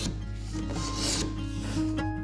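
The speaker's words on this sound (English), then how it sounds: "I need to be careful with my neck sanding" The wooden neck of a Martin D-28 guitar is sanded by hand during a restoration, a steady close rasping rub with short back-and-forth strokes and no voices.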